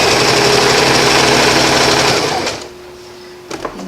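Sewing machine stitching through tough elastic on an elastic waistband, a loud steady mechanical whir for about two seconds that winds down to quiet, followed by a couple of small handling clicks.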